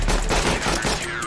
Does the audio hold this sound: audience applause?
no